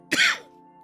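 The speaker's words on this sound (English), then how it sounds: "Still a little bit of cough." A single short cough, close and fairly loud, followed by a quiet hum of background noise.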